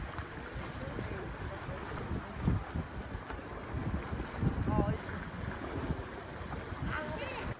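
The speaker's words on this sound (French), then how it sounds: "le bruit des vagues et le petit vent sont la bienvenue" Waves and light wind at a beach, a continuous soft rushing wash with mild gusts and occasional louder surges, heard close alongside faint background activity.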